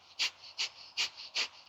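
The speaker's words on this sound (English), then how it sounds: "Coming in with a breath of fire." Four sharp, evenly spaced nasal exhales pump out in breath of fire, a rapid Kundalini yoga breathing done through the nose while seated, each puff close and loud with quiet gaps between.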